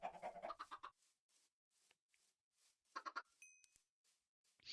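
Chickens in a Minecraft-style video game cluck faintly in short bursts, one cluster at the start and another a few seconds later, separated by quiet gaps.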